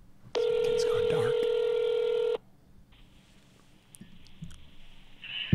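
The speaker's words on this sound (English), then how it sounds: "You must first dial the area code plus phone number." Touch-tone telephone dialing: a loud, steady keypad tone holds for about two seconds, then drops to a quieter hum with a faint voice and small clicks after it.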